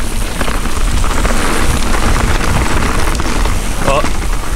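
Rain falls steadily at a downhill mountain bike trail on a ski hill at Blue Mountain, Ontario, a dense continuous hiss with wind buffeting the microphone and a voice speaking briefly.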